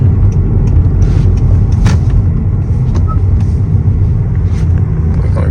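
A 1.5T Honda Accord fitted with a PRL cold air intake accelerates onto a highway in sports mode, heard from inside the cabin as a loud, steady, deep engine rumble with road noise.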